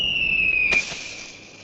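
A grenade blast in a comedy ghost-hunting film: a sharp broadband burst about three quarters of a second in, laid over a steady high whine, then a fading rumble with no talk.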